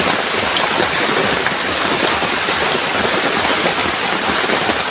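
Heavy rain pours down steadily, a dense, loud, unbroken patter on surfaces close by with no pauses.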